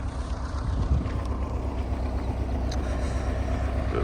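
An MTZ-82 tractor engine runs without load in fifth gear, a steady low drone with broadband rumble and wind buffeting, continuous throughout.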